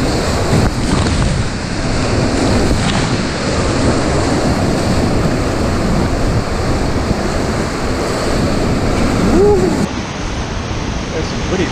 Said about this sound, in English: That's some pretty big waves.